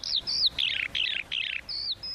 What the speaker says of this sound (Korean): 종다리 소리입니다.